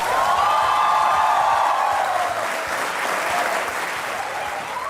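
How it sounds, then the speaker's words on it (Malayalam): A studio audience at a television show keeps up steady, loud applause, a dense wall of clapping that eases slightly toward the end, with a sustained musical tone beneath. "നിങ്ങളുടെ കൈയടി തുടർന്നുകൊണ്ടേയിരിക്കുക"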